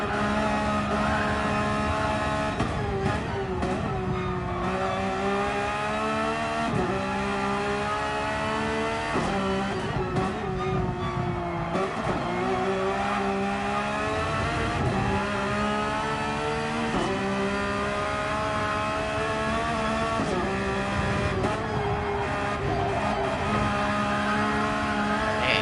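Porsche GT race car in a racing game on the Nürburgring 24-hour circuit, its engine roaring steadily and close throughout, revving up and down through gear changes with no letup.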